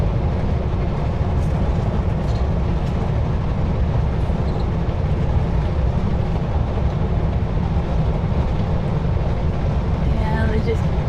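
A long freight train of short potash hopper cars rolls past on the Saskatchewan prairie, a loud, unbroken rumble and rattle of wheels and cars that holds steady throughout, heard over road and wind noise.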